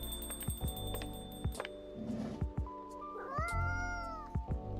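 A cartoon cat in the café video game Coffee Talk meows several times in clear, rising calls over a soft ticking, plucked background tune, with a brief caterwaul-like cry near the middle.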